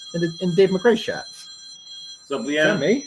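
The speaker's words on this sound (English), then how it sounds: "That's my phone. Who the hell's calling me?" A mobile phone rings during a podcast recording, a high electronic tone sounding steadily beneath and between the hosts' talk, with a short quiet gap in the middle.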